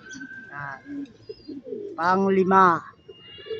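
Pigeons coo close by at a racing pigeon release in Sto. Tomas, Batangas, a couple of short rolling coos with faint chirps, while someone speaks briefly over them.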